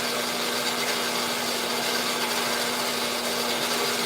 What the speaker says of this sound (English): usually when saws like this jump, they broke a tooth off